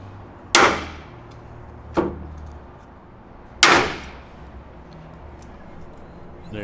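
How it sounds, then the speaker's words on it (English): A hand rivet gun sets rivets on a hood strut bracket for a second-generation Toyota Tacoma, giving three sharp, close metallic snaps spaced a second or two apart over quiet background hiss. "Then we'll use our rivet gun."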